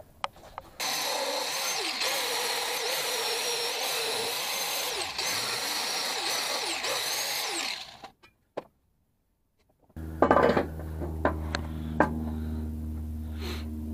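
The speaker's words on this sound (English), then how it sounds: "I know where I have to grind because I'm going to have to stitch weld those areas." Power grinder cutting into metal in a car's engine bay to prepare mount areas for stitch welding during a K-swap mount install; a loud, steady whine runs for about eight seconds, stops, then gives way to lower rumbling and clanks.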